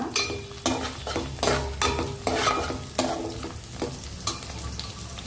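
Drumstick pieces frying in oil for a tomato curry, with soft sizzling beneath repeated stirring scrapes of a spoon against the pan at an irregular pace, close and moderately quiet.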